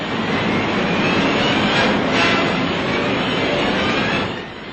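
Engines of the Douglas XB-19 bomber, the huge 82-ton, 212-foot-wingspan aircraft, coming in to land at March Field produce a loud, continuous broadband roar that stays even throughout and tails off slightly at the end.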